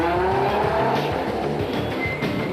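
Class B race cars scream past on a circuit during the 2007 Nissan Dealer 400, engine notes sweeping and overlapping with a tire squeal, loud and close throughout.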